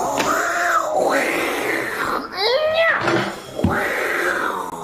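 A person imitating a hissing cat, with drawn-out meow-like wails and a sharp rising squeal in the middle, loud and close with no other talk.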